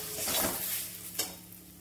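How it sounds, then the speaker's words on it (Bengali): Ground mung dal paste is stirred in a hot pan, with a soft sizzle and scraping strokes, one of them sharper, heard close and alone. "দিয়ে এটাকে আমি ভালো করে নাড়াচাড়া করে নেবো।"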